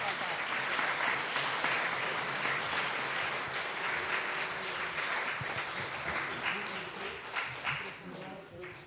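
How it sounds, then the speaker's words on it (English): An audience applauds steadily and fairly loudly at a livestreamed pitch event as people are called onto the stage, the clapping continuing throughout with a voice heard over it. "Big applause. Big applause."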